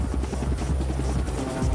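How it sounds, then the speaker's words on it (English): A military helicopter ferrying troops ashore from an amphibious assault ship's deck, its rotor chopping in a steady, close, continuous thrum with no voices over it. "the troops would go ashore by helicopter from our deck"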